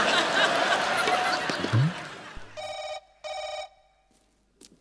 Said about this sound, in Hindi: अपना फोन आ रहा है।